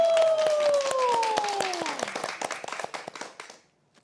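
A church congregation at a small-group worship service claps for a praise singer, the clapping scattered and sharp over a sustained, gliding tone, thinning out and fading to silence near the end.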